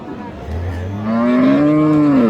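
A cow at a cattle market lets out a single long, loud moo that rises and holds close by, with faint market background beneath.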